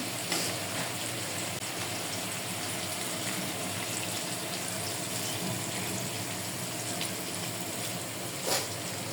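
Water poured into a pan of tengra fish curry with radish, a continuous broad wash of pouring and bubbling hiss held evenly for the whole stretch, with one brief clink near the end; no voices.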